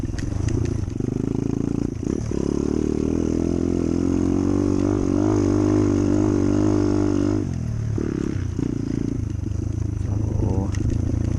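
A dirt bike engine labouring steadily on an enduro trail race course at a farm festival, loud and close, droning at a held pitch for several seconds before easing off and picking up again.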